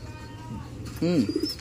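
Young pigeons in a breeder loft give a soft, rounded cooing call near the end, rising and wavering over a low, steady background hum, with faint chirps and someone talking briefly earlier.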